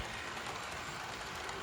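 HO scale model locomotive runs along track pulling hopper cars, a soft steady rolling rumble and faint clatter, brief and fairly quiet with no talk.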